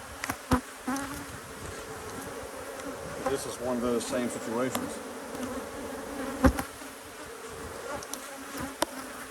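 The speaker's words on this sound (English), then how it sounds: "there's a lot of bees in here" Honey bees swarm around an open hive at midday, a dense steady buzz with a person talking close by over it.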